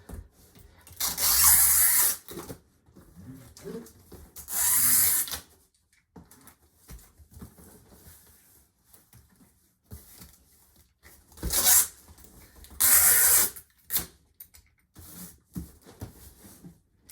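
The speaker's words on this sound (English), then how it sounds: "I like to tape top all the way down to the bottom for good measure. Really wrap it around." Packing tape being pulled and stretched across a cardboard box: several loud, ripping screeches close up, each lasting a second or two, separated by quieter handling and rustling.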